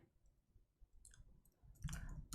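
Quiet keystrokes tapped on a computer keyboard while entering a command, scattered soft clicks building into a denser, louder burst of typing toward the end.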